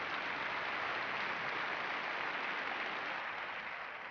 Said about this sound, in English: Round of applause for Catherine.